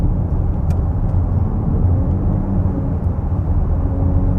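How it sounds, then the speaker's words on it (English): A 2024 VW Atlas Cross Sport's engine and exhaust rumble steadily from inside the cabin while driving, with a constant low drone and no voices. "I really do like the way that exhaust sounds."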